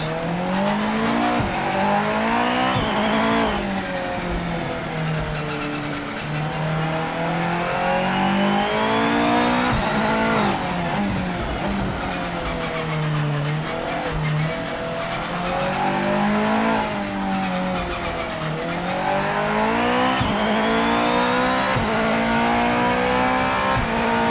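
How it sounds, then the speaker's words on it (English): A GT500 Toyota Supra race car in Project Motor Racing, racing at the Nurburgring, screams through the gears, with rising and falling engine pitch, repeated upshifts and brief tyre squeals, loud and continuous. "This is the GT500 Toyota Supra."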